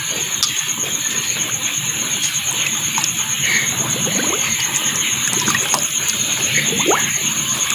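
Water gushing and sloshing as a small vaccine vial is filled and shaken to dissolve a tablet inside, a steady close trickling and splashing with a faint high steady tone in the background.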